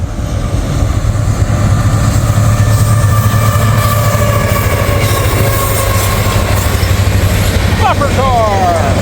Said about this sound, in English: All right, finally got another train.